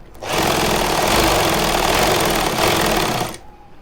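A sewing machine runs in one continuous loud burst while stitching a fabric collar, its rapid needle chatter starting abruptly, holding steady for about three seconds, then stopping.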